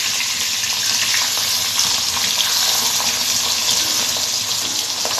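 Pabda fish frying in a pan for a home-cooked meal, a steady, dense hiss of bubbling oil that holds at an even level throughout, close and fairly loud with no talking.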